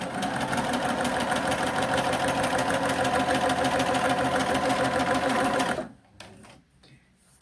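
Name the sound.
sewing machine stitching a seam on fabric pieces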